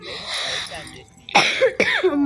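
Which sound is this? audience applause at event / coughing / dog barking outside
coughing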